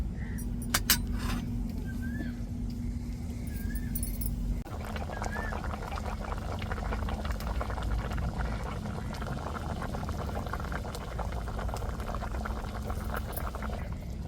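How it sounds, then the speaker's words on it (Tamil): Fish curry made with four kinds of fish simmering and reducing in a pot, a soft, continuous bubbling and hiss heard close up. "நல்லா மீன் வெந்து நல்லா குழம்பு வத்தி வரட்டுங்க"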